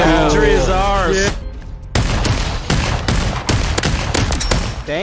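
Gunfire in the Population: One VR battle royale game bursts as rapid, loud bursts of repeated shots with echoing booms, following a short stretch of voiced speech at the start.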